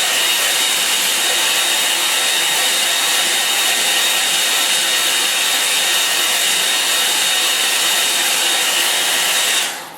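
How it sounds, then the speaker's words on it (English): A hair dryer blows steadily and loudly at close range to dry a line and wash watercolour painting of a Kent meadow with a five bar gate, a constant airy roar that cuts off at the very end. "I've got to dry this first though, so you're going to have to bear with the noise of the dryer."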